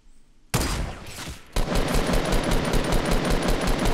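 Rapid automatic gunfire in Fortnite Battle Royale, a burst after a brief silence, a short pause, then a long sustained stream of close, loud shots in even rhythm.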